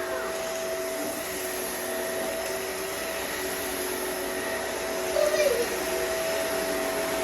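A vacuum cleaner sucking up kinetic sand drones steadily and loudly throughout, with a brief rattling bump near the end as it picks up grit.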